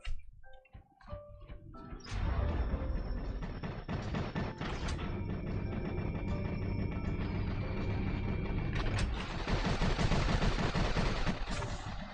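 Robots trade sustained rapid gunfire in the War Robots video game, a dense, loud, continuous barrage of overlapping shots that barely pauses across the whole stretch.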